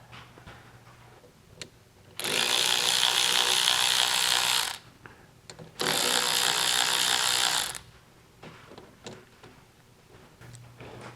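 A hand ratchet clicks on the engine bolts of a 1970 VW with a 1915cc engine, in two loud bursts of rapid ratcheting split by a short pause, with quieter clicks and handling noise around them.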